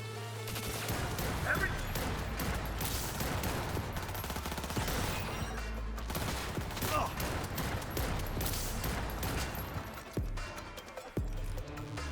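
Sustained gunfire in the video game Cyberpunk 2077, dense bursts of shots and impacts running nearly the whole time, loud and close, with shouted voices mixed in.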